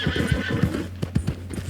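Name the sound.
horse neighing and galloping hooves in a video game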